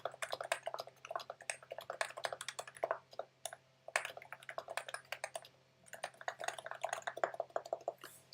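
Typing on a modded Plum mechanical keyboard, a steady run of close, crisp keystrokes with brief pauses and no voice.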